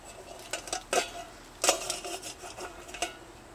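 Metal camping cookware from an Ozark Trail outdoor cooking set, including a frying pan, being handled: several sharp clanks and rattles in irregular bursts, close by and fairly quiet, with no talking.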